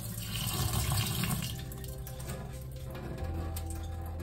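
Water swirls and drains out of a sprouting jar of seeds, a close gurgling rush that is fuller at first and then settles into a steadier trickling flow.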